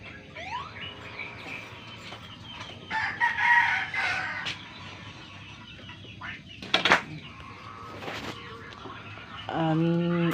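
A rooster crows near the end after scattered clucks and bird chirps, with talking and household noise running underneath.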